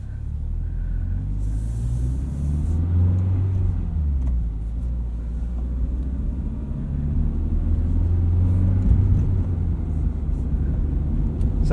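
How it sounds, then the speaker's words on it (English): A 2022 Subaru BRZ boxer engine with an unmuffled straight-through MRT axle-back exhaust rumbles low at low revs, its deep drone rising and falling steadily as the car gets going. "you can hear just a little bit more of a Subaru Boxer rumble at low revs"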